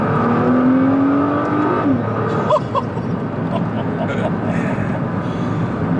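A Nissan GTR accelerates hard from inside the cabin, its engine note climbing steadily in pitch before a sharp gear change, then building again as a lower, rougher drone under road noise.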